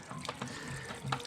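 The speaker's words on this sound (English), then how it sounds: "So I don't care where the water goes, not my problem. Just let it leak out here." Water leaks out around an ill-fitting cap, a faint, close trickle and splash with a few small gurgling bursts over a brief moment.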